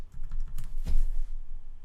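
Keys clatter in a quick burst of typing on a computer keyboard while entering text into an Android app project, close and fairly loud with no talking.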